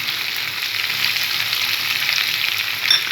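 Capsicum frying in a pan with turmeric and salt gives a steady, close, broadband sizzle that holds evenly throughout, with a brief brighter crackle near the end and no voices.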